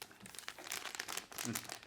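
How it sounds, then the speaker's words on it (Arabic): A plastic bag crinkles and rustles up close in several soft bursts as a makeup sponge is pushed inside before sealing. "بنحطها جوات الكيس وبدنا نسكر هذا الكيس"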